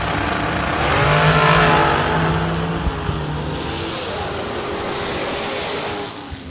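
A Hemi Hellcat drag racing against a shorty car roars loudly down the strip, the engine note swelling and then fading into a broad, distant rush of noise.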